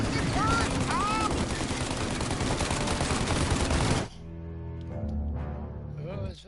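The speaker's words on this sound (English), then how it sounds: "Now! Shoot the gun!" Rapid turret gunfire in the Mafia video game, a dense loud stream of shots for about four seconds that cuts off abruptly, followed by quieter tonal game sounds and a voice.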